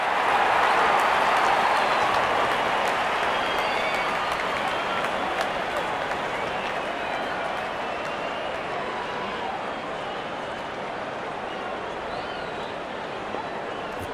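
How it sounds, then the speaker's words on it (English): Crowd applause at a cricket match in an India vs Pakistan cricket video game, a loud wash of clapping and cheering that fades slightly over the span while continuing steadily. "The crowd is enjoying every bit of this action."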